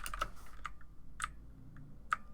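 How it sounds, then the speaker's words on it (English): Keystrokes on a computer keyboard as a systemctl command is typed, a few sparse, crisp clicks spaced irregularly with quiet gaps between them. "we will type in systemctl"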